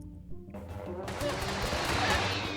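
Rapid, dense gunfire from a TABS battle in the video game erupts after a quiet start and continues as a steady crackling barrage, with a voice speaking over part of it.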